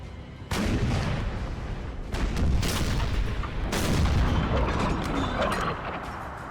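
Artillery fire in the video game Napoleon: Total War: booming cannon shots roll into one another, making a dense, continuous rumble of heavy blasts that stays loud throughout.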